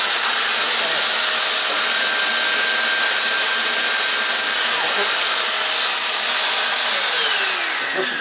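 Rug Doctor Flexi Clean carpet cleaner in suction mode with brushes idle, a loud steady rushing whine close up that holds constant and fades slightly at the end.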